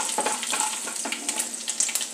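Dried red chillies, four or five cut in two, fry in hot oil with a steady crackling sizzle and small bursts of popping; close and continuous with no talking, in a Tamil home kitchen cooking murungai keerai curry.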